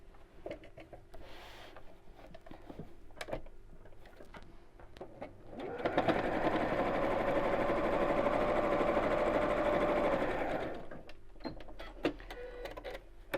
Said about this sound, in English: I'm going to sew again quite close to the edge of that flap, just through one side.